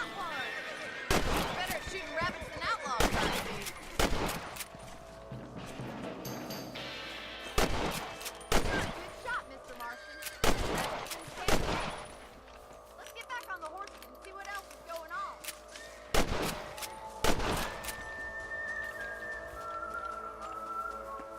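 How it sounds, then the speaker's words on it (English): Gunshots ring out while hunting rabbits in the Western video game Red Dead Redemption: about eight loud, sharp reports scattered irregularly over the stretch, each standing clear above soft in-game ambience and occasional speech. "Better at shooting rabbits than outlaws, I see."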